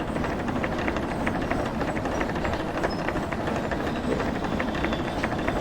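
Steam locomotive in the Derail Valley VR train game, running low on coal, chugging steadily with a continuous dense rumbling, loud and close, with faint rhythmic chuffs and no talking.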